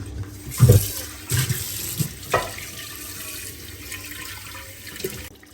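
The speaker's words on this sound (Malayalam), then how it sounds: "ഞാൻ ആവശ്യത്തിന് വെള്ളം ഒഴിച്ചു കൊടുത്തിട്ടുണ്ട്" Water is poured into a cooking pot in a home kitchen, a few splashing gushes early on before settling into a quieter trickle, close by with no talk.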